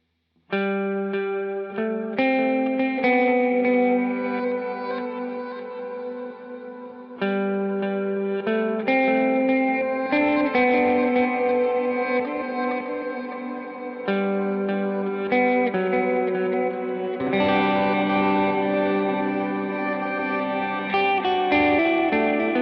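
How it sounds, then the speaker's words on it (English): Sustained electric guitar chords through a pedal's mosaic setting, drenched in shimmering, layered effects with long echoing tails, played alone and steady throughout. "one of my favorite sounds that I have is the mosaic setting"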